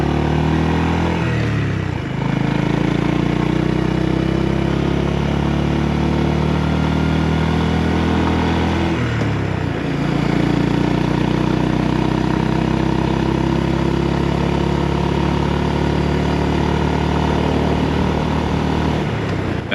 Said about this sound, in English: I thought I'd show you what it's like to ride the GB350 up a steep hill onto a twisty mountain road.